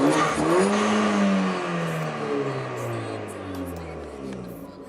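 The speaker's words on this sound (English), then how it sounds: "if I give it a little bit of a rev, you can see it moving" A Ford Fiesta ST engine, with the car standing still, is given a quick rev that peaks and then winds back down, droning close by.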